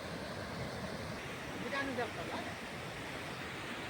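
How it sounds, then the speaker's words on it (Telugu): A steady, broad rush of water as a lake at Suraram overflows its weir downhill after overnight rain, with faint outdoor noise and a distant voice underneath. "ఇలా వెళ్తుంది వాటర్, కిందికి వెళ్తుంది."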